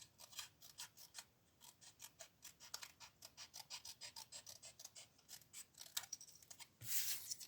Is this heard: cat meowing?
no